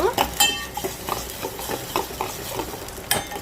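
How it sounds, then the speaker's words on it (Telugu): A spiced paste stirred into simmering ullikaram pulusu, an onion-chilli stew: repeated close scraping strokes of a spoon in the pot over a soft frying sizzle, with a few metallic clinks. "ఇది బాగా కలపాలి ఒకసారి పచ్చివాసన పోయే వరకు"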